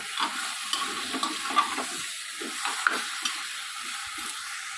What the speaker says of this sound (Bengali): এবার গ্যাসের ফ্লেমটা বাড়িয়ে দিয়ে আমি দু মিনিট মতো এটা নাড়াচাড়া করব